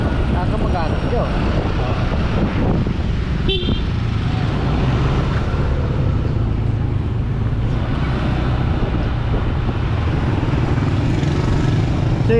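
Scooter riding along a provincial road in Gerona, Tarlac, a continuous motor drone and road rumble with passing traffic noise throughout, steady and close.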